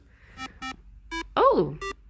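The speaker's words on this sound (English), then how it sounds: "I had a beep boop then. A beep beep." Short electronic beeps in a loose sequence, a few evenly pitched tones followed by a louder warbling bleep that sweeps up and down, then one more beep, fairly close and clear over a quiet background.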